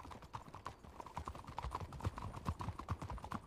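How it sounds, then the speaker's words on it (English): Horse hooves clip-clop steadily at a walking pace in a Red Dead roleplay video game, the evenly spaced thuds close and fairly quiet with no talk over them. "Get on the back of Buckley's horse, please, sir."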